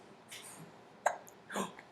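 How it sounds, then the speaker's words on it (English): A small child hiccups a few times, short sharp catches spaced apart, close and faint in an otherwise quiet room. "Somebody has the hiccups and he's grumps."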